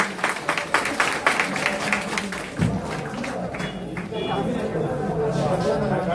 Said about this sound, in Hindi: जोरदार तालियां लगाइए इनके लिए